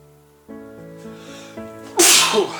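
A single loud, close sneeze bursts out at the end, after a few quiet breathy intakes, indoors in a warm bathhouse.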